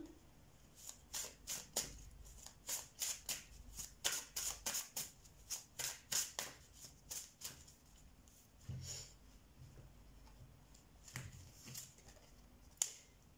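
Tarot cards being shuffled and drawn by hand: a quick run of crisp, snapping riffles and flicks in the first half, then sparser soft slides and taps, close and fairly quiet with no talking.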